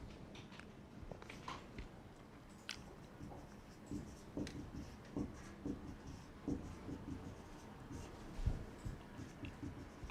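A teacher writes a chemistry question on a board, producing faint, irregular scratching and tapping strokes in quick clusters against a quiet room background.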